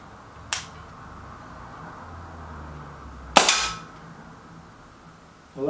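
A Walther Rotex RM8 air rifle fires one sharp, crisp crack that fades quickly, preceded by a fainter click and followed by another brief mechanical knock, all in a quiet setting.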